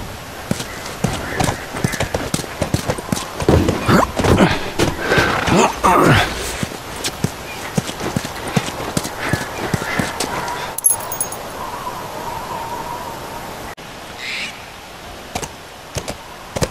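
Horse hooves clip-clopping in the video game The Last of Us, a rapid run of loud close hoofbeats that thins out and fades, with voices talking over parts of it.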